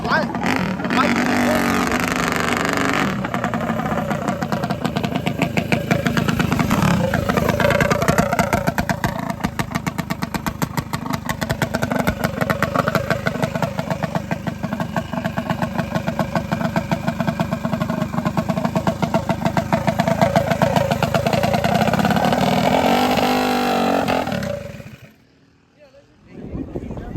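A minibike engine with a billet head runs loudly and close, buzzing and revving with a raspy, fluttering tone for most of the stretch before cutting out near the end, while voices talk over it.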